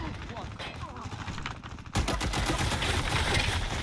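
Rapid bursts of gunfire in the online shooter Dirty Bomb, quiet at first and then a louder, denser stretch of rattling shots in the second half, with a voice talking faintly throughout.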